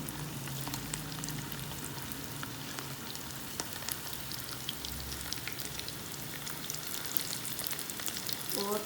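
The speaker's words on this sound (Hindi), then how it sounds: "और ये अभी हम इसमें करेंगे शैलो फ्राई।" Chicken handi kababs shallow fry in oil with a steady, crackling sizzle full of small pops, close and fairly quiet, continuing evenly with no voices.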